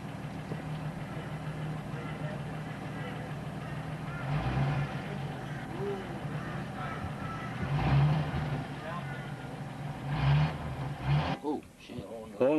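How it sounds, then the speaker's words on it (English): A 1956 Ford Zephyr Six sedan engine idles with a low, steady rumble that swells and dips a few times, with a brief rattle near the end. "Just being started, just starting to idle really."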